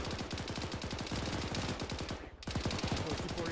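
M240 machine guns fire in sustained, overlapping bursts at a helicopter's tail rotor during platoon training, with rapid loud rattling throughout and a brief dip near the end before the fire resumes.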